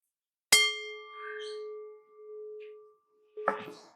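A meditation bell is struck once, giving a sharp clear strike that rings on in a long, steady, fading tone in a quiet room, with a brief soft rustle at the end.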